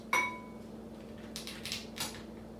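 A knife cuts through broccoli held between two kitchen lids, starting with a sharp metallic clink followed by a few soft scraping slices, close and quiet with no talking.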